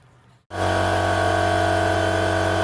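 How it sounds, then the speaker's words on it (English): After a brief quiet moment, an air compressor motor kicks on abruptly and runs with a loud, steady mechanical drone and hum, building pressure for spray painting a motorcycle gas tank. "Just building the pressure on the compressor there,"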